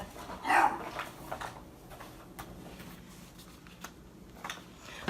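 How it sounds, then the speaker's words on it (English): A dog gives a single short bark early on, moderately near but not loud, followed by quiet indoor room noise with a few faint ticks and clicks and no talking. "my dog barking"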